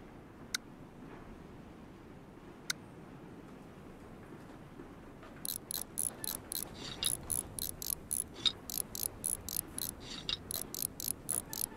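Rapid ratchet clicks tightening bolts on a combine in Farm Mechanic Simulator 2015, arriving in quick bursts over a steady low hum, after a couple of isolated sharp ticks early on.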